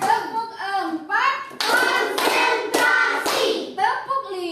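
Children in a classroom clapping together in rhythmic bursts during a group clapping routine, with sharp clap patterns interleaved with a chanting voice and kids' responses.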